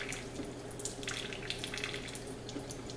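Water runs from a hose while a vape mod is rinsed, a soft continuous splashing with light trickling spatters, close but quiet, with no talk.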